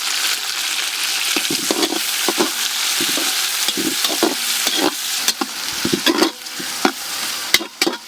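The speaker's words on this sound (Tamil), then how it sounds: "வெங்காயம் நல்லா கோல்டன் கலரில் வந்த உடனே தக்காளியை போட்டுக்குவோம்." Tomatoes and coriander hitting golden fried onions for chicken biryani, a constant loud sizzle with frequent close stirring clatters and scrapes of a spoon in the pan, no talking.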